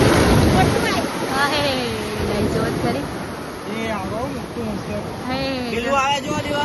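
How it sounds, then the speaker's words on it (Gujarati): Sea waves wash and roll in a steady broad rush, with wind buffeting the microphone while people talk over the surf. "આ બધું જો લેરો આવે"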